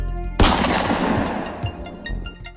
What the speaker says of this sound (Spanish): De un balazo bien acomodado, el 24 de febrero de 1980 muere Fernando Uribe Senior.